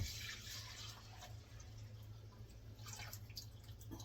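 Hot soap-making oil, just taken off the heat, pours through a strainer to catch particulate matter: a faint, steady trickle with soft drips over a low hum.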